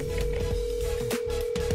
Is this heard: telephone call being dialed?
yes